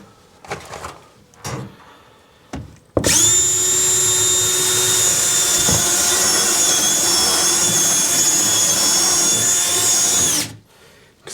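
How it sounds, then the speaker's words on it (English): A power drill bores through wood in a tiny cabin, revving loudly and steadily for about seven seconds after a few short bursts, then cutting off. "drilling through this one was just really tough"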